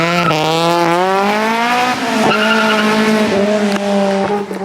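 A Nissan R32 GTR launches hard on a race track, engine roaring loud and close as revs climb steadily through the gears with brief dips at each shift.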